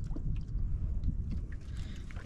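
Low, steady rumbling of a boat passing over water, fairly close and continuous, with faint sloshing and no voices.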